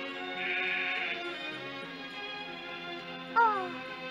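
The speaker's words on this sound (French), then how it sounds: "aussi des chèvres." A goat's wavering bleat rises briefly near the end after a sustained stretch of tonal music or droning sound, fairly close and moderately loud.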